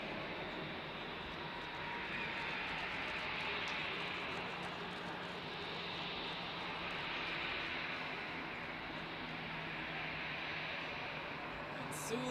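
Airbus A380, 72 meters long with an 80-meter wingspan, at Zurich airport, heard from an observation deck as a steady, broad jet roar that holds evenly throughout with no talking.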